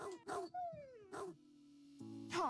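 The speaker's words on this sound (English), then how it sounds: "That terrier is a psycho dog." A terrier barks and whimpers in the video game Dog's Life, with a few sharp yelps, a drawn-out whine and a low steady game tone beneath, while a person talks over parts of it.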